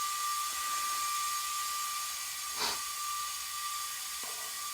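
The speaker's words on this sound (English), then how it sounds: "We got some more air in the air compressor. Let's reinflate." An air compressor reinflating a plugged car tire, a faint steady hiss of air with a tonal hum and one brief louder puff.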